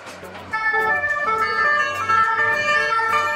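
A toy fire truck's wailing electronic siren with a tinny, toy-like tone, steady and fairly loud, with a bright melodic warble running throughout.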